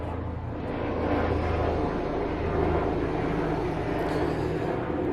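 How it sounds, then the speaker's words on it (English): An airplane passes overhead as a broad, steady roar that swells slightly in the middle and stays constant throughout, with no talking. "Just let that airplane fly over."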